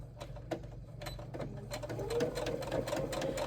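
A sewing machine re-stitches a seam with a reverse at the end, its rapid needle chatter running in a steady rhythmic stream, fairly faint and close, with no talking.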